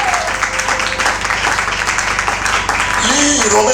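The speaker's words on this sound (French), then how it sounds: "est-ce que tu peux acclamer très fort pour ton Dieu?" A church congregation applauding and cheering loudly for God, a dense wash of clapping and shouts filling the whole stretch with voices mixed in.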